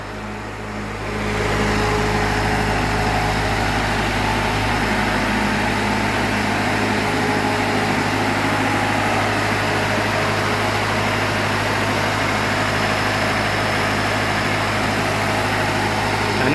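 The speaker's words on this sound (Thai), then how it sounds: "แล้วก็รู้สึกเหมือนจะมีเครื่องปั่นไฟอยู่" An engine-driven generator hums steadily and loudly after starting up, a constant low drone with a mechanical rattle and no break.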